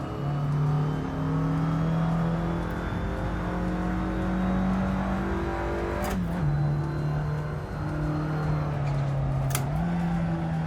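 A car drifts in the racing game Assetto Corsa Evoluzione, its engine holding a steady high drone that rises and dips with throttle changes and gear shifts, sharp scrapes breaking in twice.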